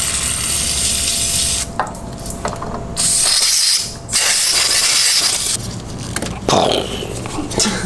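Electric parts cleaner aerosol spray hisses in several loud bursts close by onto the residue-covered prongs of a John Deere 650 tractor's electrical parts, with short pauses and clicks between sprays.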